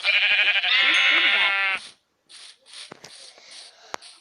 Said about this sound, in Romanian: adică două oi albe.